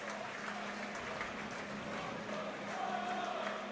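Football crowd at Home Park stadium ahead of a Plymouth Argyle versus Shrewsbury Town match, with lights dimmed for a light show: a steady, moderately distant roar of cheering and applause that holds throughout with no talk over it.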